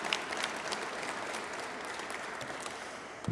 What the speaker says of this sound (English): So a round of applause for all of our sponsors that helped make this happen.